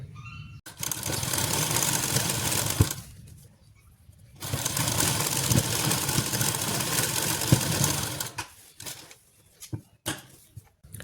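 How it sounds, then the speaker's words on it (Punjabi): A sewing machine stitches lace onto a kameez, running in two long steady whirring bursts with a short pause between them, then a few brief stop-start runs. "ਐਦਾਂ ਦੇ ਉੱਤੇ ਸਲਾਈ ਲਾ ਲੈਣੀ ਹੈ ਜੀ ਆਪਾਂ ਨੇ"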